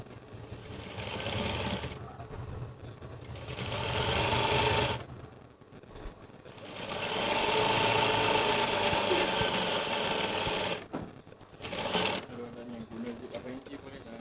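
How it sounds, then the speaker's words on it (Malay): A sewing machine stitches a hidden zip along a marked line. It runs in long, steady whirring bursts with short pauses between them, and a voice talks softly over parts of it. "kita jahit Jahit daripada garisan yang kita tanda 9 inci tadi tu."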